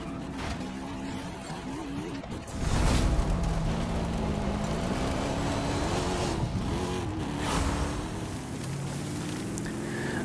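A car in a racing video game drives on a drag strip, its engine droning and shifting pitch throughout. The engine grows louder and revs harder partway through, with a steady whooshing rush of motion behind it.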